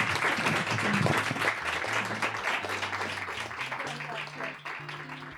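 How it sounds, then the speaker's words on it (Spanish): Applause from an audience at the close of a talk or reading, a dense wash of clapping that runs throughout the clip. Low, tonal music or voices sit underneath, and the clapping eases slightly near the end. "Un fuerte aplauso, por favor."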